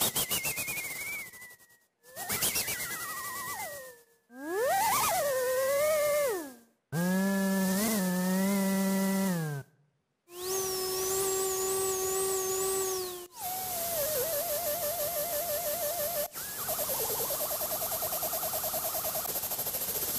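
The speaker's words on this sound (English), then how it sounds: "we can go from a bird to a chainsaw to a helicopter while all the parameters move in real time." A run of AI-generated synthesized electronic sounds in separate bursts, with parameters moving in real time, shifting from whistly birdlike chirps to buzzing, chainsaw-like drones and a steady chopping, helicopter-like texture, with no voices.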